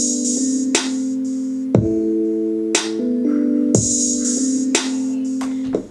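A programmed drum beat made in Logic Pro X, with punchy kicks and snares and sizzling open hi-hats, layered over a sustained synth chord, no voices.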